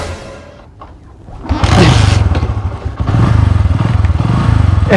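Boda boda motorcycle taxi riding with a passenger, its engine rising from quiet into a loud, steady rumble mixed with wind rush and rattling, close and continuous.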